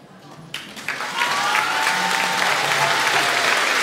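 Applause from an audience at an Academy of Fine Arts meeting at Przystanek Woodstock 2010 starts with a few scattered claps and quickly swells into steady, loud clapping that continues to the end.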